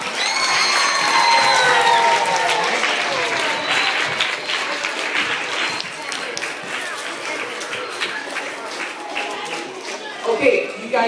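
Prolonged audience applause from children at a police department Red Ribbon Week gathering, dense clapping with scattered shouts early on, gradually thinning toward the end before a brief final burst.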